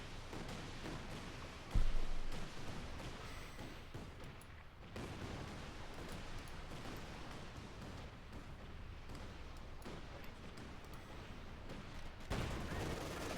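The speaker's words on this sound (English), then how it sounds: "machine guns firing shots, blasting well as well there" Battle gunfire in the video game Company of Heroes 2, machine guns firing amid a heavy, continuous din of war, with a sharp loud blast near the start and dense crackling bursts throughout.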